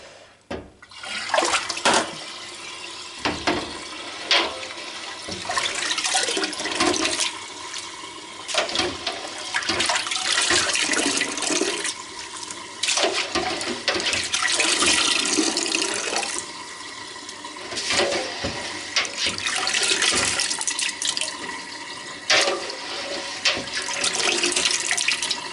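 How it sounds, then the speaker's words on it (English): Water pours and splashes steadily as it is drained off during the making of Wensleydale cheese from raw sheep's milk, a continuous gushing flow lasting throughout with uneven surges and no talking. "Can take this water out now."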